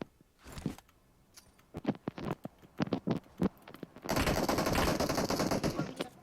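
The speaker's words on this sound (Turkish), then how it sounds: "Şuradan sıkıyorum. Bir önden sıkan var." Gunfire from the mobile game PUBG Mobile crackles in scattered single and double shots, followed by a dense, sustained burst of automatic fire, with game sound effects throughout.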